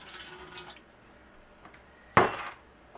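A little water goes into a roasting pan for deglazing while making venison broth, with faint dripping and light metallic clinks followed by one sharp splash and clatter.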